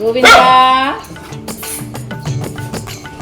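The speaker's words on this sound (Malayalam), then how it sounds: "അകത്തേക്ക് പ്രവേശിക്കുമ്പോൾ നമ്മളെ സ്വാഗതം ചെയ്തത് ഗോവിന്ദൻ എന്ന നായയാണ്" A dog gives a loud, sharp bark near the start, followed by lighter clinking of dishes and utensils with faint voices around it.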